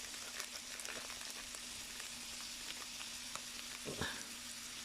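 Cardamom pods hit a hot pan with a faint, steady crackle and sizzle, with a soft scrape of stirring near the end, while chicken akhni is being cooked.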